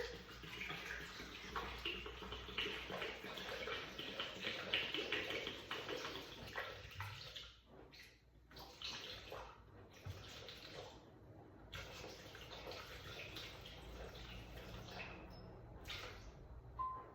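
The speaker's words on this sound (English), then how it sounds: "adding our water." Water poured into a pot of ginger broth, a steady close rushing pour that runs continuously and then breaks into a few shorter splashing bursts, no talking.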